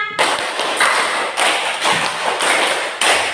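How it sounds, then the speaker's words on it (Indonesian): A school class claps together in a rhythmic five-clap pattern, producing loud, close bursts of unison clapping separated by short pauses. "2 kali tepuk 5"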